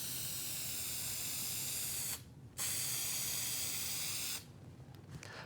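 Steady, soft hiss of spray adhesive being applied to laminate for a router table, in two long bursts separated by a short pause, then trailing off.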